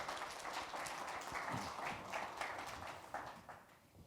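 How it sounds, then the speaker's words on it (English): An audience gives a speaker on stage a soft, distant round of applause, a steady patter of many hands that fades slightly toward the end. "obviously with a nice, dynamic, energetic applause to give him some extra energy"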